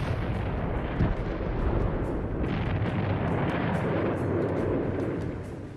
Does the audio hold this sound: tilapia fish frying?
no